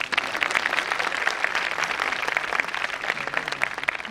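Audience at a 2017 Fight Against Cancer medical conference scientific session claps steadily for about four seconds, a dense even patter of many hands with no pauses and no voices over it.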